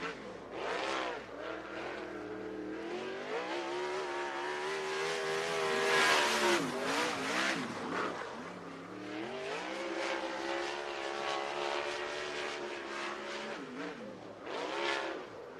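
A winged sprint car screams around a speedway oval on a qualifying lap, its engine revving high and rising and falling as it passes through corners and down straights, loud and continuous.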